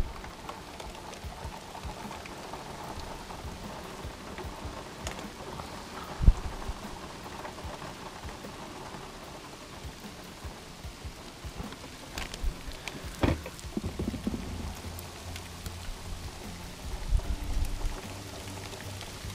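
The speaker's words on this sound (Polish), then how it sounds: "Mamy więcej deszczu." Winter rain falls steadily in Portugal: a constant hiss of drops on surfaces, with a few louder splashes and low rumbles, and no voices.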